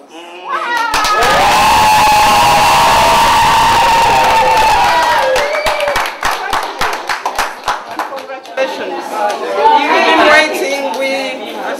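A crowd of Ugandans applauds and cheers for marathon gold medalist Stephen Kiprotich at the Uganda Embassy in London. A loud, sustained wave of clapping and shouts gives way to scattered claps and lively chatter.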